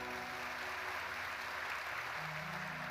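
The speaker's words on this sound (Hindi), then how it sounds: "एक बार जोरदार तालियां इनके लिए।" Audience at a religious storytelling gathering applauds, a soft, distant, even patter of many hands that continues throughout, with faint sustained tones from music or a voice beneath it.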